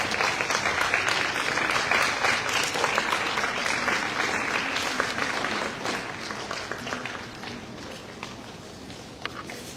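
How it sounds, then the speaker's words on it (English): Sustained applause from a large crowd of delegates at a Model United Nations event, dense steady clapping that fills the whole stretch and tapers slightly toward the end. "So please keep on applauding, dear delegates."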